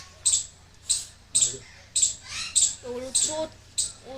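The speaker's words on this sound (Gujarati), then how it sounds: "અહીંયા પણ પોપટ છે" Parrots squawk at Indroda Nature Park in about seven sharp, evenly spaced calls, with a person talking between and under them.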